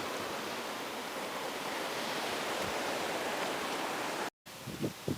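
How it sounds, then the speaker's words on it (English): The River Tay cascades and bubbles past, a steady broadband rush of churning water heard up close, broken near the end by a brief dropout and a few soft knocks. "Cascading, bubbling water. This is the Tay, which ends up in Dundee."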